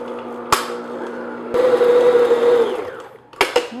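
Electric mixer slowly working flour into chocolate sugar cookie dough for cutout cookies, a steady close motor whir that surges louder midway, with sharp knocks of the bowl or beaters at the start and end.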